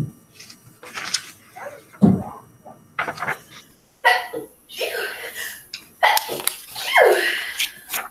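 A single sharp sneeze bursts out near the start amid scattered classroom voices and rustling, followed by intermittent talking.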